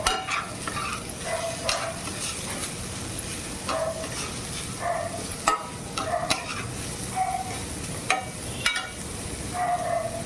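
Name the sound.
onion frying and being stirred in a pan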